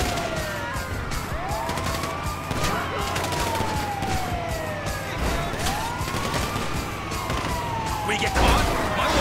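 Police sirens in Grand Theft Auto V wail in repeated rising and falling sweeps during a high-speed chase, loud and close, over rumbling engine noise and scattered sharp bangs.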